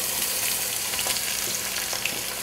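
Chopped onion frying in warm oil for Indian chicken biryani, a steady close sizzle with faint stirring scrapes and no talking.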